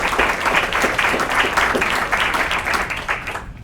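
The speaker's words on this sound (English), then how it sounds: "Let's give Jillian a big round of applause" A crowd applauds a teacher at a community YMCA education celebration, brisk, fairly loud clapping that holds steady and then fades out toward the end.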